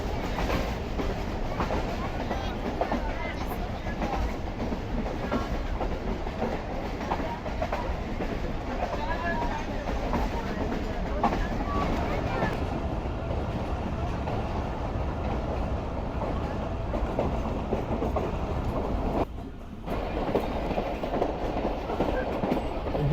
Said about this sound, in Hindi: जी दोस्तों, तकरीबन 45 मिनट रुकने के बाद ट्रेन हमारे निकल रही है खानौट रेलवे स्टेशन से